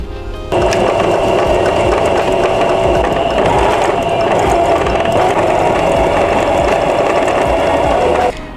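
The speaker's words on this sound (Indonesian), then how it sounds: "Nanti kita jahit kotak lalu silang. Ini kita jahit ujungnya." A sewing machine stitches the ends of a fabric bunny bag in one continuous, loud whirring run of about eight seconds, starting and stopping abruptly, close by with no talk.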